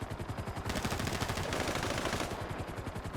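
Rapid automatic gunfire from a video game, close and loud, running in dense bursts through the whole stretch with no talk over it.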